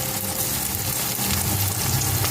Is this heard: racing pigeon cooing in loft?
no